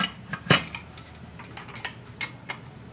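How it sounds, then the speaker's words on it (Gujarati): A pressure cooker lid being closed, a sharp close metallic clack followed by several lighter clicks and taps of metal, with no talking. "હવે આપણે કુકર બંધ કરી દેવું"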